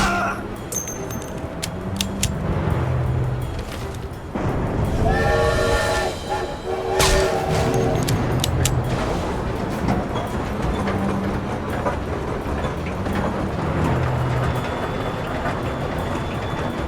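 A steam-era train rumbles along steadily in The Saboteur, a dense low roar and clatter throughout, with a whistle blast sounding partway through and faint voices now and then.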